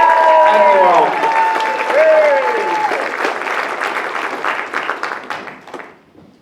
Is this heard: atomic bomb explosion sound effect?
no